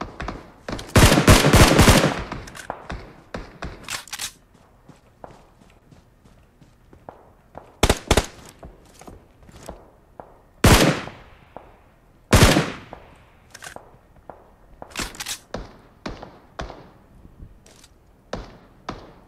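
Gunfire in the mobile shooter BGMI comes in sharp, loud bursts of rapid shots, first a tight cluster and then scattered single cracks and short volleys over a quiet background.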